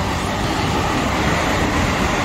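A Tokaido Line train rumbles past close by in Japan, a dense continuous roar of wheels and carriages with no pauses.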